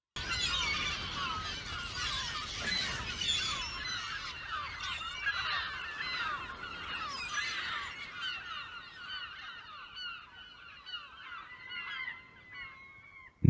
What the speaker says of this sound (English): And all you hear is seagulls.